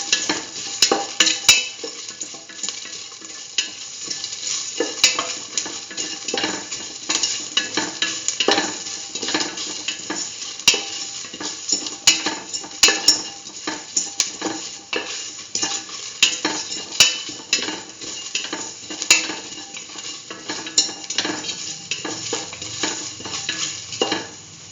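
Red chillies fry in hot oil for a split chickpea and yam stew, a continuous close sizzle broken by frequent scraping and clattering as a spoon stirs the pan; no voices.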